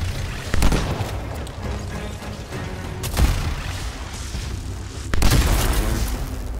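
Heavy weapon fire in Anthem, three deep booming blasts spaced a couple of seconds apart over a constant rumble of combat noise.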